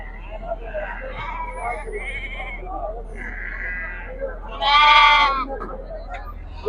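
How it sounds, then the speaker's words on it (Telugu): Sheep and goats at a busy weekly livestock market in Macharla, Palnadu, with one loud, close bleat rising over a constant murmur of crowd talk and fainter animal calls. "ఈ సంతలో అయితే నాలుగు రకాలు వస్తాయి ఒడియలు బిల్లలు గొర్రెలు మేకపోతులు మేకలు వస్తాయి"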